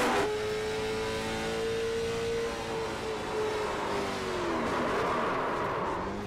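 A race car engine at Kern Raceway revs and climbs in pitch as the throttle is applied during a loose spin in corners one and two, loud and close, with rising harmonic tones and no talk.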